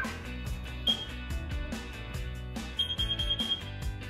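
A household smoke alarm being tested, its sharp high beeping repeating in short bursts over a dense busy background of other sounds.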